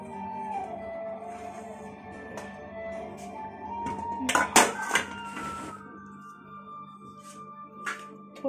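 Dhokla being knocked and lifted out of a hot cooking tin, giving a few sharp metallic clanks and scrapes of the tin and utensil around the middle, between quieter kitchen handling.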